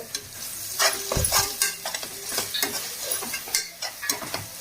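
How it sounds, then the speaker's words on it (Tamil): Ingredients for prawn biryani sautéed and stirred in a pan, with steady sizzling frying beneath repeated close scraping strokes of a spoon against the pan, no voices. "போட்டு ஒரு அரை செகண்ட் நல்லா வதக்குங்க"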